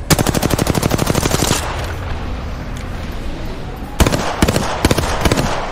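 Rapid automatic gunfire in the Apex Legends battle royale game, loud and close, a dense burst of shots for about a second and a half, a quieter stretch, then more sharp bursts.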